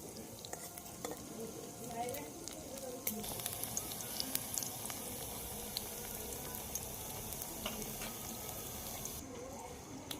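Banana fingers fry in a pan of hot oil, giving a steady crackling sizzle throughout, with scattered sharper pops and occasional stirring clatter close by.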